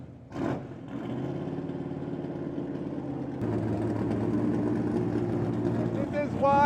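A hot rod car engine starts up and settles into a steady, loud idle with a deep rumbling throb. It grows louder partway through, and voices come in near the end.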